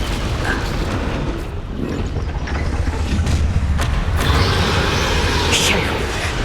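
A Confringo fire spell going off in Hogwarts Legacy combat: a rumbling blast with a booming low roar and crackling debris, layered over game noise and voices for several seconds.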